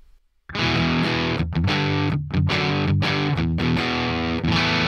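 After a brief quiet start, an electric guitar run through the PolyChrome DSP McRocklin Suite with low-gain saturation and boost strums loud, saturated chords in a choppy rhythm with brief breaks, sustained to the end.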